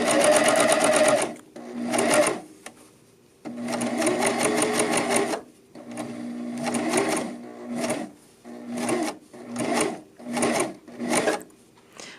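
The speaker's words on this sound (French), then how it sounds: "ce que je veux faire, c'est de revenir coudre environ pendant 1 pouce sur ma couture." A domestic sewing machine stitching over the seam of a raglan sweater, its motor whirring and needle chattering in short runs of a few seconds, stopping and restarting repeatedly, close and clear.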